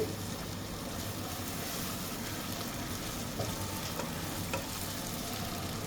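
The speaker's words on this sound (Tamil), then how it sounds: "ஒரு 5 நிமிஷம் தக்காளி நல்லா வதங்கிடட்டும்" Tomatoes and spices sautéing in a pan for a white chicken curry, a steady close sizzle of frying with soft stirring, continuous and even throughout, no voices.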